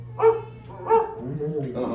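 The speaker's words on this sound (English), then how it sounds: "Don't worry, Rover. She didn't mean real dogs." Two short dog barks spaced apart, followed by a whiny, whimpering vocal, close and fairly loud over a low background hum, in the Carousel of Progress show at Magic Kingdom.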